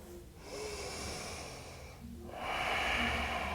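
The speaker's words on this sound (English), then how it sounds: "Take another full breath." A full breath taken during a yoga pose, a close airy inhale followed after a short pause by a stronger, louder exhale that fills the last second.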